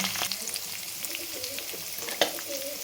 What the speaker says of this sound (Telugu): ఒకసారి కలిపి కరివేపాకు వేసుకోవాలి